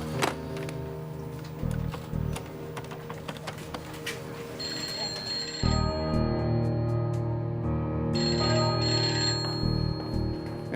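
A telephone rings with repeated bell-like trills in bursts against a steady tonal background, fairly loud and near, with no one speaking.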